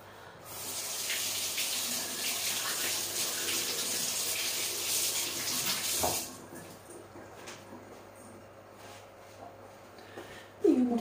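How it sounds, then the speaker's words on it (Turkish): Eggs rinsed under a running kitchen tap, a steady close stream of water pouring into the sink for about six seconds, then stopping, followed by quieter handling sounds and a brief clatter at the end. "ben şimdi hemen yumurtalarımı bir güzel sudan geçireyim"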